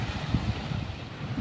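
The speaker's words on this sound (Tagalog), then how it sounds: "Lalaki talaga ng alon mga bro." Big waves break on the sea beside a small fishing boat at a narrow, rocky landing, a continuous low wash mixed with gusting wind noise.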